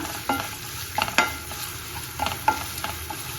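Sliced onion fries in a pan as it is stirred, a steady sizzle broken by several scraping strokes of the spoon, close and fairly loud.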